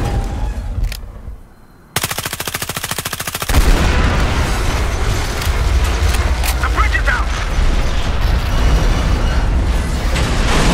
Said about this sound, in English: it does take a bit of firepower to actually set off this train car